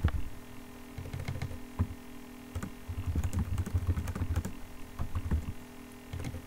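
Fast keystrokes on a computer keyboard come in irregular bursts of close clicks and taps, with a low hum underneath and no talking.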